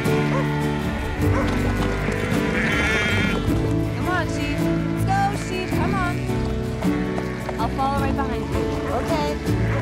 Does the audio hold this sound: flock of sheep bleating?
yes